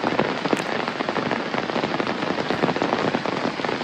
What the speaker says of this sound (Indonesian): kita dengarkan suara germecik hujan